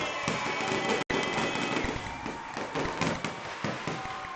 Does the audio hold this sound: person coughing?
no